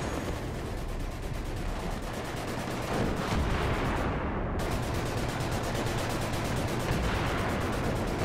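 Dense, continuous gunfire fills a Battlefield 3 match, rapid bursts of automatic weapons and shots layered loudly and steadily throughout with no pauses, and no talking.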